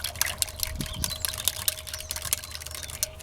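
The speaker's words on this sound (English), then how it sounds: "And I take my whisk." A whisk stirs titanium dioxide mixed in water for cold process soap, giving quick, light, irregular clicks and splashy ticks, close up and fairly quiet, with a faint steady hum underneath.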